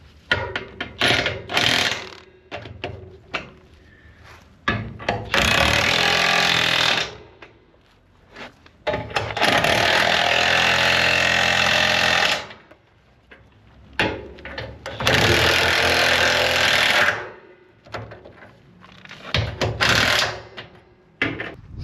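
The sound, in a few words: bolts being driven back in on a Crown Vic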